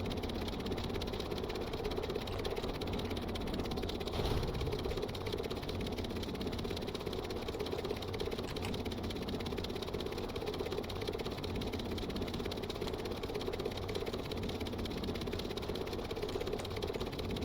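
A steady, droning engine hum from a VTOL aircraft build in a video game runs unbroken and fairly loud throughout, with no pauses or speech over it.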